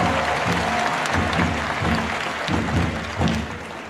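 An audience at an event with Rwanda's president breaks into applause, a dense steady clapping that carries through the moment and eases slightly at the end.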